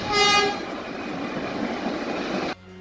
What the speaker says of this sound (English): The R10s had air horns, and the rest of the cars built after would have air horns as well.